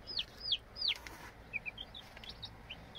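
Chickens cluck and chirp in short, high bursts, several calls scattered over a quiet, steady background; no one speaks.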